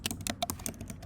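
Quick, close computer keyboard typing, a brief run of crisp individual key clicks at a steady pace, with no voice.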